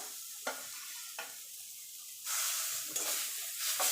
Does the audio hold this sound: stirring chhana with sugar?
yes